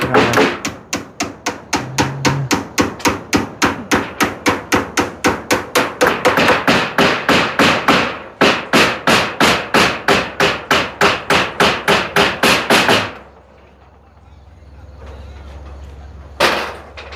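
Rapid, rhythmic hammer blows ring out as nails are driven into metal roof sheeting, dozens of sharp strikes in quick succession, then a pause and one final knock.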